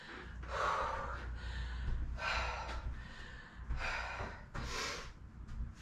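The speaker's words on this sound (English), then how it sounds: "Couple deep breaths here." A person rests after a Tabata full-body workout interval, taking several heavy, close breaths in and out with audible gasps and exhales in an uneven rhythm.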